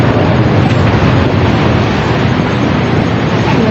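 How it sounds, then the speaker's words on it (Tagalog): Large floodwater surging around a house, a loud continuous roar of rushing water with a wind-like rumble, close and unbroken for the whole stretch. "Sobrang laki na ng tubig."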